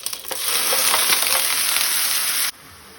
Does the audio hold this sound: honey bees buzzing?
no